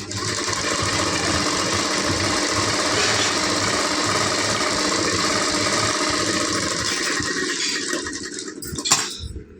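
A sewing machine stitching a blouse runs as a loud, continuous whirring drone with a fast rhythmic needle chatter, slowing and stopping near the end with a brief clunk.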